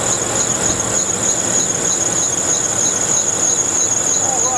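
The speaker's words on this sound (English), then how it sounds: "it's cranking up and running just fine. Idle down good. Just got a real noisy belt." A 1995 Ford F150 engine idling with a real noisy belt, giving a steady high-pitched squeal over a constant engine drone, close and loud without pause.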